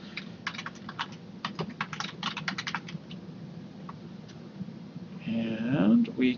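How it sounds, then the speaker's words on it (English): Someone types steadily on a computer keyboard on a Windows 7 machine, producing a rapid run of close, bright key clicks over a low background hum. The typing stops, and a voice speaks briefly near the end. "I'll just type in here test meeting and put in the subject as well."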